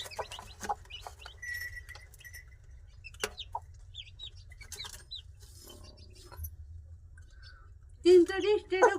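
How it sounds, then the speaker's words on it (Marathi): A hen clucks among her chicks at a poultry farm, scattered soft clucks and peeps close by with a louder burst of calls near the end over a low background rumble. "कोंबडीची पिलं"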